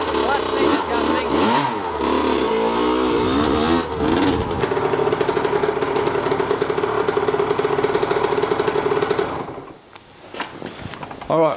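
A vintage 80cc dirt bike engine, its clutch just adjusted, revs hard and steadily for about nine seconds with a loud buzzing two-stroke note, then drops away and blips again briefly. Voices may be mixed in.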